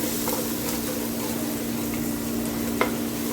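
Garlic hits a hot pan while cooking an okra and meat tagine, and a continuous even sizzle fills the moment close-up, broken by a single sharp pop near the end.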